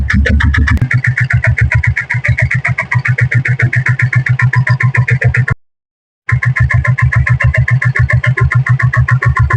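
A 1994 diesel Bullet motorcycle engine idles steadily with a fast, even thumping beat, loud and close, briefly cutting out to silence before resuming.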